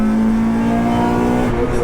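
A Honda DC2 Integra Type R engine holds a strong, high rev in VTEC with a steady droning tone, loud and close, before the pitch drops briefly near the end.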